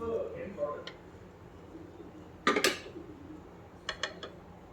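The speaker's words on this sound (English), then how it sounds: "I'm going to open the cooker now." A pressure cooker lid is opened after the pressure has fully released while cooking Chennai mutton biryani, giving a few sharp metallic clanks and scrapes at close range, with quieter clicks afterward.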